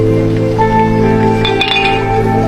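Glasses clink together during a toast among friends over a steady background hum, giving a few bright short chimes that ring briefly near the middle.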